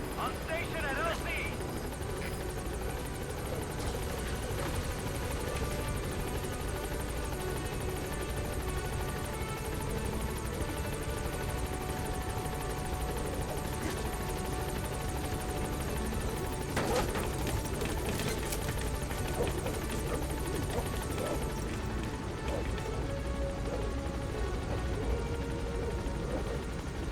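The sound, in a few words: Pequod helicopter arriving at landing zone in Metal Gear Solid V video game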